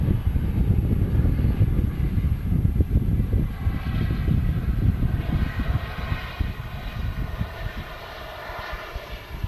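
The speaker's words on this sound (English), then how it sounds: "And the Ryanair 737-800." A Ryanair Boeing 737-800 landing at Manchester Airport, its jet engine roar loud and steady throughout with a deep rumbling low end and a faint high whine, fading slightly toward the end as reversers retract.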